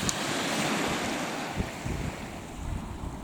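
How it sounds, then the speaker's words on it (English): Pouring rain outdoors, heard as a steady loud broadband wash with gusty wind buffeting the microphone throughout, no voices. "We're sat here in the pouring rain."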